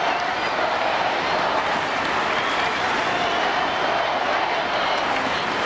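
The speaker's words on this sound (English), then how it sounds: "Crowd coming alive." A baseball crowd at an Anaheim Angels home game against the Oakland Athletics in 2003 roars and applauds in a dense, steady wash of cheering and clapping that fills the stadium without a break.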